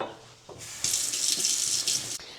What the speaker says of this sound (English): Step 1, wash your hands.